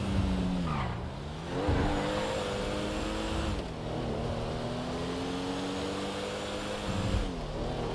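A car in Grand Theft Auto V on PS5 revs loudly and steadily, its engine pitch dipping and climbing through gear changes, with brief tire squeals and skids mixed in and no talking.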